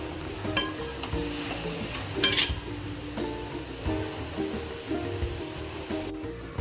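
A wet coconut and jaggery modak filling is stirred and sautéed in a pan, giving a continuous frying hiss with repeated scraping strokes and one brief louder clatter midway.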